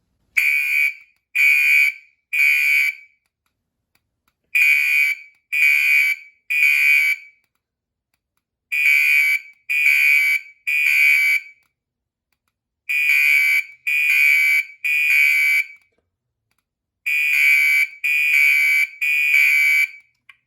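Two Gentex SHG fire alarm horn strobes blare together in loud, piercing groups of three, each burst followed by a pause, repeating steadily with no talking.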